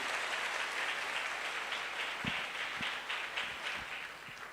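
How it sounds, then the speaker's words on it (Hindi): Steady applause from a large crowd, dense and continuous throughout, with a few sharper individual claps standing out near the end. "जोरदार तालियां होनी चाहिए"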